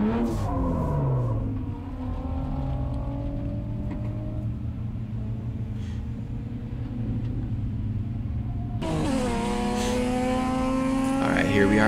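A BMW M3 drift car revs and bounces off the limiter while drifting at a grid event, loud engine roar with repeated pitch swings and a sharp rise near the end.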